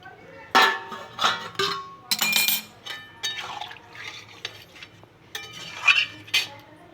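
Chicken curry is stirred in a pot after hot water is added, with a spoon clinking and scraping against the metal in irregular bursts and a soft liquid slosh in between.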